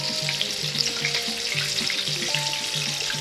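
Batter-coated chicken leg pieces, KFC-style crispy fried chicken, sizzle in hot oil with a steady, dense crackle and bubbling that stays loud and close throughout, with no talking.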